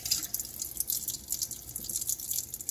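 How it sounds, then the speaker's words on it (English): A tap runs over Tupperware cookware as it is rinsed in a sink, making close splashing and dripping water with an uneven flow, and no one speaks. "Now I'm just gonna rinse it"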